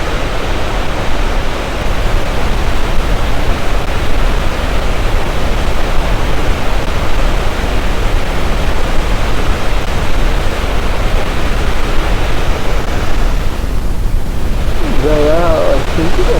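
A massive, unbroken roar of falling water at Victoria Falls (Mosi-oa-Tunya) fills the scene at high volume, with a brief voice near the end.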